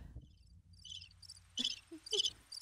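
Crickets chirp in short, bright bursts, a few spaced trills that sound like a sparse comic sound effect, alone with no talk.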